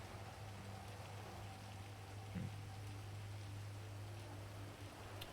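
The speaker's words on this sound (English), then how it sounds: "It's fucking rain" Steady, soft rain falls in the video game GTA V (NoPixel) as an even wash of patter and hiss with a low hum beneath, faint and continuous without any talking.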